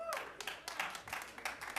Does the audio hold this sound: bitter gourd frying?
no